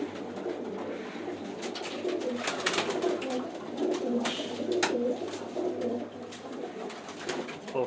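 A flock of pigeons coos continuously in a loft, overlapping throaty calls close by with wing flutters and shuffling, no one speaking.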